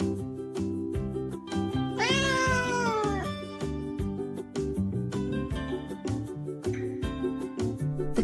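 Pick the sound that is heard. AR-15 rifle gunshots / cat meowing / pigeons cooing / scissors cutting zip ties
cat meowing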